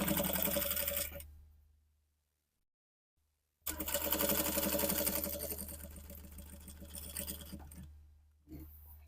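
Sewing machine stitching a baby dress, running in steady bursts of rapid mechanical clatter, stopping briefly for a silent pause, then resuming with a long continuous run before slowing near the end.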